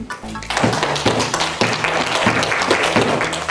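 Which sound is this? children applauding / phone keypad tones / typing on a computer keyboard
children applauding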